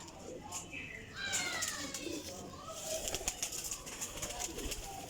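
Pigeons coo and rustle at close range among prize birds, with bursts of wing flutter and a steady layer of bird calls while someone talks over them.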